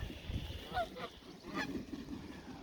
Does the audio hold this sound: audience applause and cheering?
no